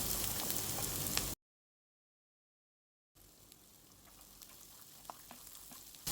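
Sprouted moong dropped into a pan with chilli, garlic and mint, a dense close frying sizzle that cuts out to silence for nearly two seconds and then returns softer, with faint pops.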